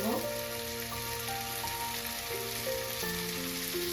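Bottle gourd and shrimp curry fry in a pan with a steady, close hiss of sizzling, and a soft melodic tune plays underneath.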